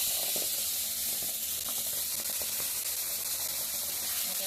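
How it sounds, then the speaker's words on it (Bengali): Spices sizzling in a hot kadai as they are fried for a fish curry, a continuous loud hiss with scattered small pops and clinks from stirring, no talk. "আমি এখানে মশলাটা দিয়ে দেবো, কষিয়ে নেবো"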